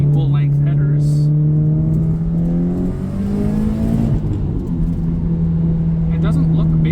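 Tuned Subaru STi engine with equal length headers, a smooth droning exhaust tone that climbs and dips through revs and boost from inside the moving car, loud and close, with someone talking over it.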